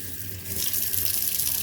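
Tap water running into a sink while homemade butter is rinsed and squeezed, a steady close hiss that grows louder partway through, with no voices.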